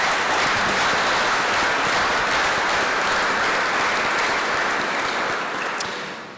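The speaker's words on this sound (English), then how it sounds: "Let's give them a round of applause." A congregation applauds at the installation of a bishop in the Diocese of Central Queensland, Rockhampton: steady, dense clapping from a large crowd filling the space at full strength, easing off slightly near the end.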